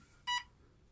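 A single short electronic beep from a brushless motor in a model boat, bright and tonal, lasting a fraction of a second against a quiet background.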